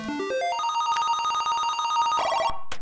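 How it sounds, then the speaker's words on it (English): A rapid electronic telephone-like ring from the Alley Cat video game rises in quick steps, then trills steadily for about two seconds before cutting off, loud and alone. "Sound always reminded me of like an old office phone."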